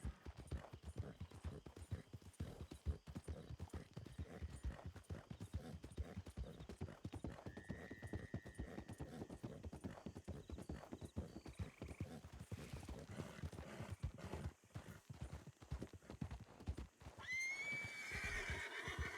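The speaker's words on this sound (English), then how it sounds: "Sorry, my horse is a little scared." In a roleplay video game, a scared horse's hooves clip-clop continuously and faintly, with a neigh partway through and a sharp whinny near the end.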